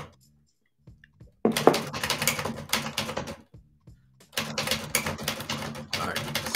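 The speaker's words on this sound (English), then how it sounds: "Some people have to go to sleep to the sounds of typewriters." A typewriter clatters in rapid bursts of keystrokes, two sustained runs separated by a short quiet gap, close and fairly loud in an indoor live-stream setting.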